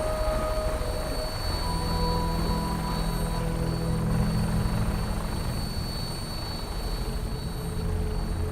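Vertibird-style helicopter flight in Fallout 4, a steady, loud rotor and engine drone with sustained tonal whine and low thumping, continuous and close throughout with no speech.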